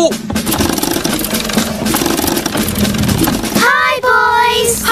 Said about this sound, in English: Radio, wind the engine.